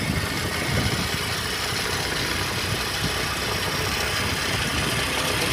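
A motorbike engine runs steadily at a low idle-like rumble, continuous and fairly loud throughout, with no talk.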